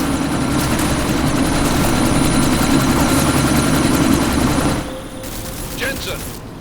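A helicopter in the video game Deus Ex: Mankind Divided roars loud and close with a constant rotor drone, under bursts of gunfire, and then eases off slightly near the end.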